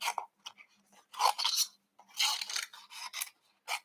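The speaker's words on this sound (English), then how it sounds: "out come the snips. Because all this needs fussy cutting." Scissors snip through paper in short bursts, cutting carefully around cardstock shapes for a papercraft project with caroling mice; irregular crisp snips and rustling scrapes close to the microphone, no talking.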